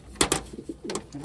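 Wantai pigeon cooing close by, a medium-size female, giving a couple of quick soft notes followed by a longer rolling coo, with no talking.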